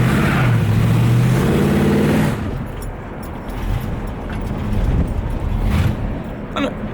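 A modified car engine revs hard and loud for about two seconds as the accelerator is pressed, its pitch climbing, then abruptly drops away as the engine stalls, leaving a low rumble and faint background noise.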